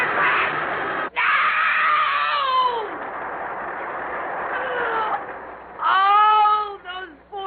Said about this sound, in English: And the screams. All those screaming people.